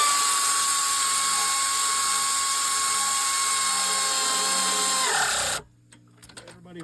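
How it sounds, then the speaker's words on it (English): An air ratchet spins a bolt during a thermostat replacement on a Honda Element, a loud continuous high-pitched whir held for about five seconds that winds down abruptly into quiet with a few faint clicks. "it is a lot easier with the air ratchet"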